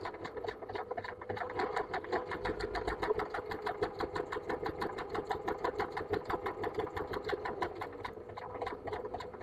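A sewing machine stitching a spiral, its speed set by a foot pedal, runs in a steady, close rapid rattle of needle strokes for the whole stretch with no pauses.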